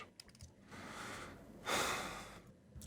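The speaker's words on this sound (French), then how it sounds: "C'est un peu long par contre comme respiration." A breathing sound effect being cut into a film soundtrack: a soft, close exhale rises into a louder, breathy rush of air midway, then fades back to quiet room tone with a few faint clicks.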